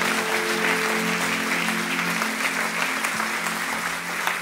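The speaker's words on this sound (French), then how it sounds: "Applaudissons ensemble le roi des rois." Congregation at a church worship service applauding together, a dense, steady wash of many hands clapping at close range, continuous throughout with faint voices mixed in.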